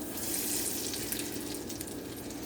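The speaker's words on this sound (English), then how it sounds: "We're just frying them in hog lard." Cheese balls fry in hot hog lard, making a soft, steady bubbling sizzle with crackly hiss throughout, fairly quiet and with no talking.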